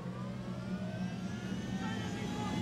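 A stolen helicopter flies in the video game Ghost Recon Wildlands, with a steady, droning engine hum and whine holding at an even level, and a voice at times over it.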